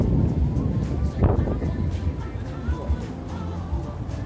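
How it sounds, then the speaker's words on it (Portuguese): Strong wind buffets an unshielded microphone in gusty low rumbles on a town street in Baía Formosa, Rio Grande do Norte, with a voice faintly present beneath. "E o vento, tem muito vento e eu sem microfone."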